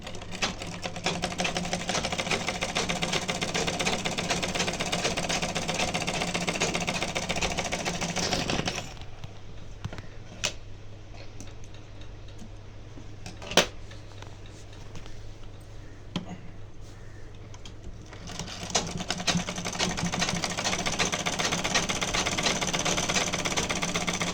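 A sewing machine stitches back tucks in a fast, steady whir, stopping for a quiet stretch of a few seconds with small clicks and handling noises before running again at the same pace.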